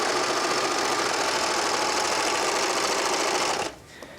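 A Baby Lock serger stitches over fabric in a loud, steady, rapid mechanical whir close by, then stops abruptly near the end, leaving quiet room tone.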